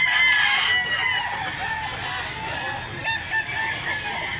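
A rooster crows loudly and near at a chicken seller's yard in Mantalungon, Cebu, followed by chickens clucking in the background of a busy flock.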